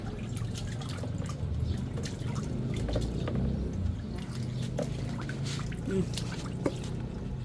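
A duck splashes in a bucket of water, giving soft intermittent drips, splashes and trickles at close range against a low background hum, with occasional voices nearby.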